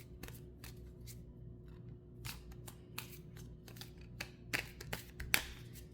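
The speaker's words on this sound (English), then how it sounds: "So we do got to shuffle now." Cards from a Disney Villainous board game deck being shuffled at a table, a series of quick soft riffling bursts and crisp flicks over a low steady background hum, with no talking.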